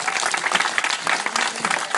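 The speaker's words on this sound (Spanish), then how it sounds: "quiero que le den un aplauso" A crowd gathered for a classroom handover ceremony claps steadily, a bright, busy patter of many hands at fairly close range that holds without pause for the whole moment.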